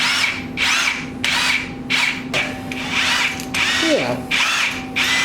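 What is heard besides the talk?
drilling holes into RB25DET engine cylinder head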